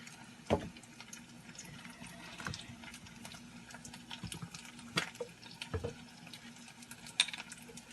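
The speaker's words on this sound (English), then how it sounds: "I have some vegetable broth, and I am going to be putting some vegetable broth in here" Vegetable broth being poured into a cooking pan for vegan Greek-inspired dishes makes a faint, uneven trickle with a few small splashes and clinks. No one speaks.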